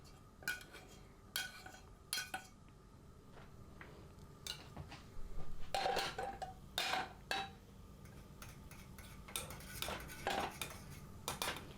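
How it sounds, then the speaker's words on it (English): Metal utensil clinking and scraping against a pot while stirring broth, irregular bursts of stirring with short pauses, close and fairly loud, no talking. "we'll mix our broth in on top to get it moving"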